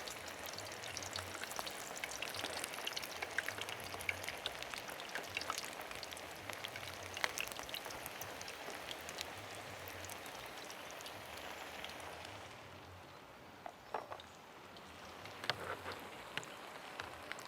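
Sausages fry in a pan with a steady, dense sizzle and scattered crackling pops, fairly quiet and continuous with no talking.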